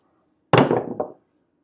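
Dice thrown in a craps game, a sudden sharp clatter as they hit the table, with a second quick knock as they settle, all over in under a second and loud against silence.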